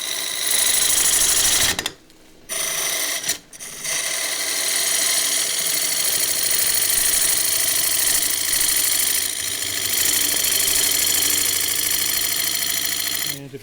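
A woodturning tool trims the outside of a wooden tray spinning on a lathe, giving a steady loud whirring and scraping drone. It breaks off twice briefly early on, then continues evenly.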